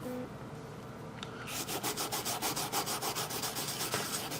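A kolrosed design on wood being rubbed over, starting with quiet handling, then a fast steady run of close, scratchy back-and-forth strokes in even rhythm, with no speech.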